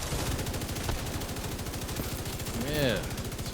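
Rapid mortar and gunfire bursts from a Division 2 firefight run throughout, dense and steady, with a brief whistling sweep near the end.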